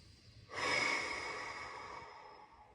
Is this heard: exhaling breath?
yes